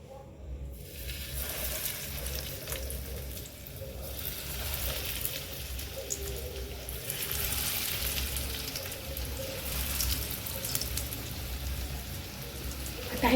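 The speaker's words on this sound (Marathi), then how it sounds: "आता आपण यांना शॅलो फ्राय करणार आहोत." Beetroot cutlets shallow fry in a hot pan over medium heat, giving a steady, close, crackling sizzle that rises and falls gently and continues without talk.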